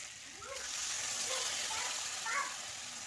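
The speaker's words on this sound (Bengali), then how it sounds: "এবার জল দিয়ে দেব।" Water poured into a pan of spice masala sizzles and hisses in a broad, steady rush, rising as it hits the hot oil, at moderate level with faint kitchen sounds underneath.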